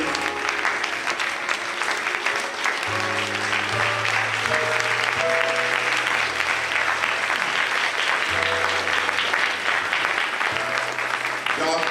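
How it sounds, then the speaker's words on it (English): Sustained applause from a family reunion audience giving a young woman a standing ovation, steady and fairly even for the whole stretch, with a low sustained instrumental tone underneath. "could we please give this young lady a standing ovation?"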